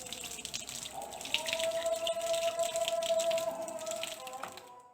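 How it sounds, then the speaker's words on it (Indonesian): Running tap water pours steadily over hands being washed before a baby massage, a continuous hiss and splash that swells in the middle and fades near the end, close and moderately loud. "Pertama itu kita cuci tangan di air mengalir."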